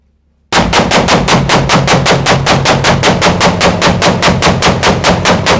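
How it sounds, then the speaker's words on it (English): Rapid-fire magazine dump from an AR pistol, a fast, even string of about two dozen loud shots fired close, starting abruptly after brief silence and continuing to the end. "That mag dump's for you."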